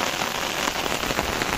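Heavy rain pours onto flooded rice paddy fields in the Konkan during planting season, a dense and steady hiss with no break.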